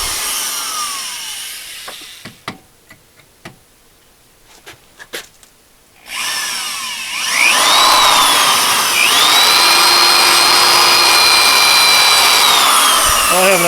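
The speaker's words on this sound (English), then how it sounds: "Alright, stepless step drill, do your thing." A stepless step drill bit works on an engine mount part: a few quiet clicks and handling taps, then the drill spins up into a loud, sustained whine that grinds on steadily to the end.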